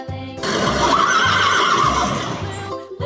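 A farm horse lets out one long, loud whinny at close range that lasts most of the three seconds before tapering off, heard alone.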